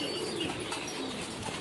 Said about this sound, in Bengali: বিশাল এক কবুতরের খামার।